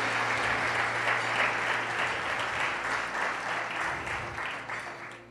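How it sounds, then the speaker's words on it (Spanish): A church congregation applauds the Lord during a bilingual Spanish-English sermon, a full, continuous roar of many hands clapping that swells early and slowly fades, with a faint low hum beneath. "Come on, give the Lord a round of applause."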